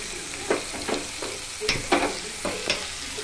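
Spatula scrapes and stirs a radish chutney mixture with peanuts frying in a pan, with repeated scraping strokes over a steady sizzle.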